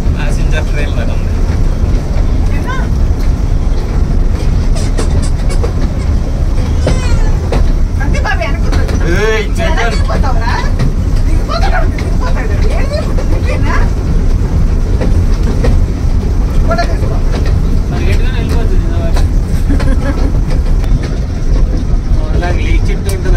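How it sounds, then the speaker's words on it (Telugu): Ooty toy train moving at slow passenger-train pace, with a loud continuous rumble and clickety-clack of the carriages throughout, and voices talking over it. "ప్యాసింజర్ ట్రైన్ లాగా ఉంది"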